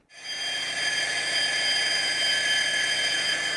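A steady electronic engine drone from a Hornby TTS model locomotive sound decoder through its original speaker, with a bright, buzzing tone, starting abruptly and holding constant at moderate volume throughout.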